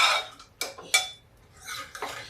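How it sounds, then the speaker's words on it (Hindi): A spoon scrapes and clinks against a cooking pot while stirring garlic, onion, cardamom and spices for a jackfruit dish: a few short, close metallic strokes. "अब लहसुन प्याज सब हम इसी में मिक्स कर देंगे, ऐसे ऐसे करके।"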